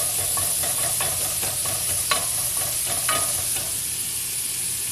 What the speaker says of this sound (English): We want to get this as chopped as we can, which is much easier with a flat spatula